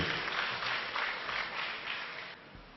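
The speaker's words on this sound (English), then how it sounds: "let us cheer our elders who have made it here" Audience applause for elders at a community programme, a dense, steady clatter of many hands that holds throughout and eases slightly near the end.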